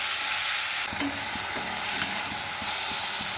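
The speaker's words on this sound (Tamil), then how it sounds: "இப்போ இதை நல்லா வதக்கிக்கலாம்" Drumstick leaves sizzle steadily in a hot pan, with occasional soft scrapes of stirring under the constant frying hiss.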